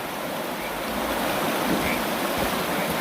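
Steady rushing of a creek flowing near an abandoned ghost town camp, a continuous broadband wash of water with no pauses and no talk.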